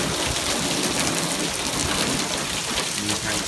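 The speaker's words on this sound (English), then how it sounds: "It's hard to see, but it was hailing. Some hail on the car." Rain and hail pound steadily on a car during an Arizona monsoon storm, a dense, loud, continuous patter with no pauses.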